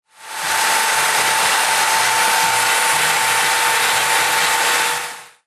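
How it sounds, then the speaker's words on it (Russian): A chainsaw runs at a steady high roar for about five seconds during a chainsaw art performance at an industrial-themed festival, loud and close, with no talking. "Перформанс бензопилой тоже часть праздника."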